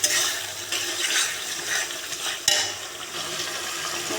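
Spice masala and tomato are sautéed in a pan with a continuous close sizzle and repeated stirring scrapes, broken by one sharp knock midway, with no talk.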